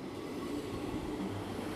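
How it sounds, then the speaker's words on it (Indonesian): A steady low rumble of a train rolling along, continuous and fairly quiet, with no voices. "kereta api"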